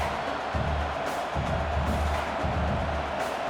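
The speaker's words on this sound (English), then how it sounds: "this home crowd is fired up and ready to make a difference today" A home crowd cheers steadily in the background of an EA College Football 26 game, Michigan at Nebraska, a distant continuous roar with slight swells.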